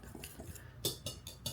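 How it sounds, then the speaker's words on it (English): Utensil stirring dry flour, baking powder and baking soda in a bowl, a quiet series of scraping clinks against the bowl's side with several sharper taps, close and alone. "we're just going to give that a good stir so it's all mixed in together real good"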